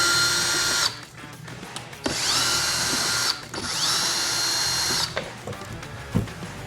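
A handheld power driver whirs in long bursts, pausing between runs, as T15 screws come out of the taillight cover on a 1982–1992 third-generation Chevrolet Camaro, close and loud in a quiet garage.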